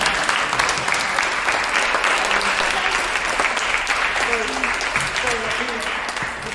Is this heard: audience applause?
yes